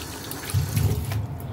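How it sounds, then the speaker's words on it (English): Water runs from a kitchen tap while something is washed under it, a close, brief gush that swells and then tapers off. "pa. Wash, wash, wash."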